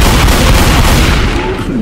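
Dense, loud bursts of gunfire and booming shots in the zombie shooter Left 4 Dead 2 versus mode, rapid and continuous, close and heavy, then easing slightly toward the end.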